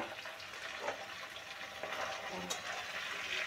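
Bacha fish frying in oil in a pan, a soft, steady sizzle with faint crackles and a couple of brief clinks near the pan, heard at close range at low level.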